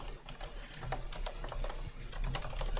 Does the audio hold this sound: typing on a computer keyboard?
yes